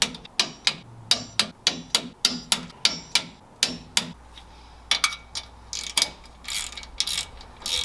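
Torque wrench clicking repeatedly while tightening the differential cover bolts on a 1972 K10 truck, a steady run of sharp ratcheting clicks near the mic, then more scattered clicks and clacks after a brief pause.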